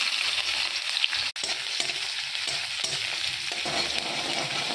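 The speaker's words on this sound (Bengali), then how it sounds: "এখন কড়াই গরম হয়ে গেল, আমি তেল দিয়ে দিলাম।" Chopped onion sizzles and fries in hot oil in a wok, a steady bright crackle with repeated scraping stirs throughout and one brief dropout near the start.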